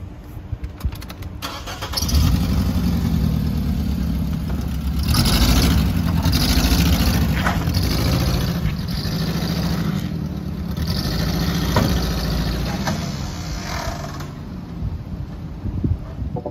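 An old car's engine cranks and catches after a couple of seconds, then settles into a steady, fairly close idle with a fan-like hum and occasional small clunks, with no talking.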